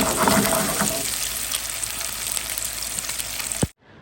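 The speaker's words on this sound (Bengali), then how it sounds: "রূপচাঁদা মাছ বসিয়ে দিয়েছি, আর এই সাইডে ডিমটা বসিয়ে দিয়েছি।" Pomfret fish and an egg fry side by side in a pan, giving a close, steady sizzle that fades before a sudden stop.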